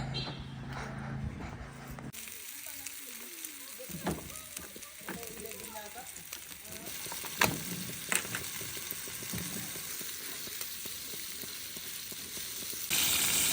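Steak frying in a pan at a dark campsite, a steady soft sizzle running throughout with a few sharper pops and clatters, fairly quiet and close.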